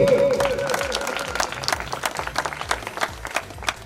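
An audience claps steadily at a Prajapati community ceremony for a self-study centre and library in Bidasar, with dense, lively applause and a voice briefly heard at the start.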